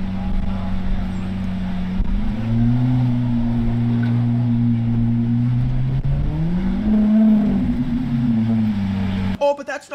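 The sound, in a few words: Lamborghini SVJ sports car engine revving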